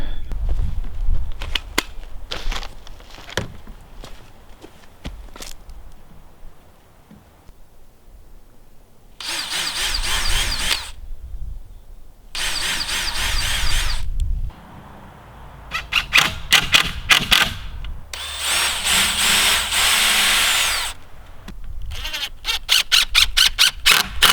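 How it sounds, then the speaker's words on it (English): A power drill drives screws into wooden bracing for a year-round vegetable growing structure, whirring in several loud bursts between clicks, knocks and quieter outdoor background, with no talking. "Went around and put some double screws in."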